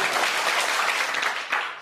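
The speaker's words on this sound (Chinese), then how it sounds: "要掌声啊" A hall audience claps in a dense, continuous burst of applause that fades near the end.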